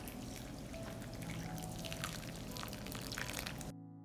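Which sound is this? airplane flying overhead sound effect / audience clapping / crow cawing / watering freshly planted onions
watering freshly planted onions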